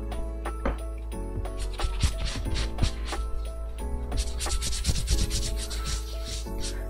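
A hand rubs back and forth over a plastisol screen-printed design on fabric, giving close, continuous scratchy friction with soft rhythmic strokes and no talking.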